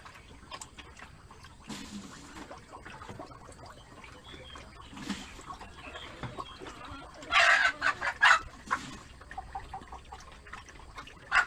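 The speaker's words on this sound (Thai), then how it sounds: "พวกไก่พวกอะไรก็จะเข้ามากินข้าวในนี้กับหมู" Chickens clucking on a wild boar farm where they come in to feed alongside the pigs, with scattered calls and a burst of louder squawks partway through over a quiet outdoor background.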